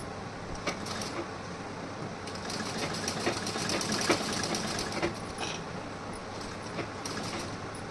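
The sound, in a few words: sewing machine stitching a blouse armhole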